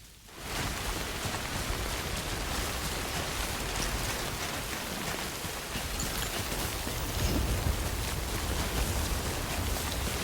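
Timefall rain in the Death Stranding video game pours down in a dense, steady hiss of drops hitting the ground, rising quickly at the start and then staying loud and constant, with no voices.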